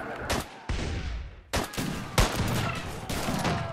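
Rapid bursts of gunfire from a gun in the video game Full Invasion 2, several loud overlapping volleys and sharp cracks rolling one after another with brief gaps, close and dominant.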